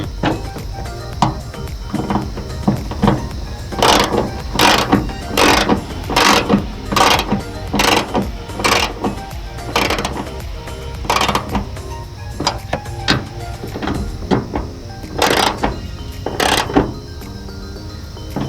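Ratchet wrench tightening the bolt on a high-lift hood strut of a Nissan Xterra, giving a long series of loud, close, rhythmic clicking bursts with short pauses between strokes.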